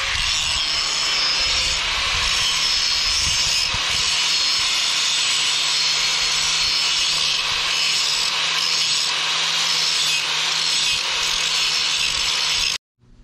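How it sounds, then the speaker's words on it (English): An angle grinder works metal steadily during a 1-inch leveling kit install on a 2022 Ford Maverick, a loud, continuous high whine with slight wavering that runs for about twelve seconds before cutting off. "Now we have to grind it."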